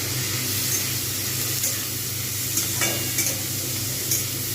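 Vegetables for chowmein are stirred in a hot pan, a steady close sizzle running throughout with a few light scraping strokes of the utensil and no talking.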